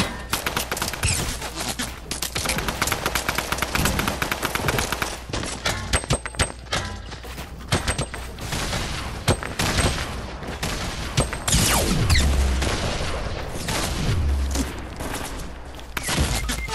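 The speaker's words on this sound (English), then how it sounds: "I'm getting shot at Amjad!" Sustained gunfire in the video game Squad, with rapid automatic bursts and scattered single shots crackling continuously, some close and loud, others more distant, with occasional heavier thumps.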